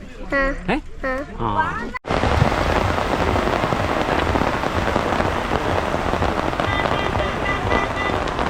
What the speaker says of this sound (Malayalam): പക്ഷെ നല്ല മഴ പെയ്യുന്നുണ്ട്